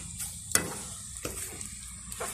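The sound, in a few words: frying boiled tocino (cured pork) in a pan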